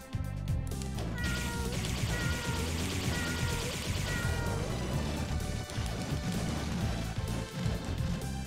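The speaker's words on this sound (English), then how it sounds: "Get him, kitty!" A cat in Castlevania: Portrait of Ruin meows and yowls as it attacks, its cries layered over busy game music and clattering hit effects, loud and continuous throughout.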